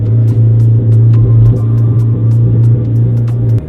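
A Mitsubishi RVR Hyper Sport Gear R engine is heard from inside the car, a loud, steady low throb with a strong droning tone and light clicks scattered over it.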